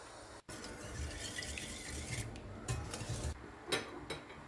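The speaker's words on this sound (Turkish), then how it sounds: "İyice karıştırıyorum." A spoon stirs a cheese filling with chili flakes and finely chopped parsley in a bowl, making soft, continuous scraping and clinking close by, with no talking.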